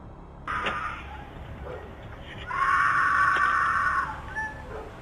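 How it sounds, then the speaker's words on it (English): A woman's distant, strained screams for help, caught on a doorbell camera, rise and hold in long high wails, with a shorter cry near the start, over a faint background hiss. "another woman off in the distance desperately screaming for help"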